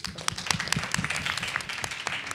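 A student government meeting audience claps at a university, a sparse scattering of hand claps in an uneven rhythm, moderately close, with little else under it.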